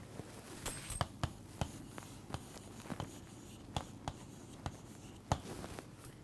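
Pen or marker writing a word by hand on a surface, a quiet series of short scratchy strokes and taps spaced through the clip, close and soft with no talking.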